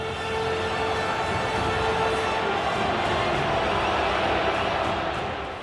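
A huge crowd at Wembley Stadium in London roars and chants Modi's name, a dense, sustained wall of cheering that stays loud and steady throughout without breaks.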